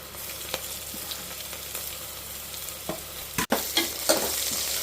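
Ginger garlic paste fries in a pan for a home-cooked chicken biryani, a soft steady sizzle broken by a few scraping stirs and a sharp clatter near the end.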